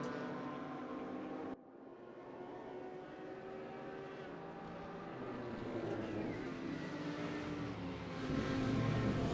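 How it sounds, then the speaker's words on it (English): An ultra high-powered Audi race car at Spa Classic in a sim racing game, its engine a steady droning roar that briefly dips, then builds gradually louder, with no talk. "His ultra high-powered Audi."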